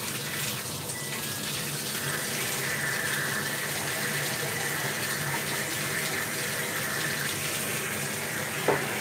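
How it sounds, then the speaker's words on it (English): Water runs steadily from a tap into a sink while a frog tank is being cleaned, a constant close hiss and splash for the whole stretch, ending in a brief knock. "So basically, I turn on the water, I turn it down, do this with my elbow."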